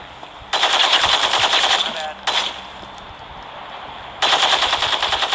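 Rapid automatic gunfire in the Gangstar Vegas mobile game, long loud bursts of fast shots separated by short pauses, with brief clicks between them.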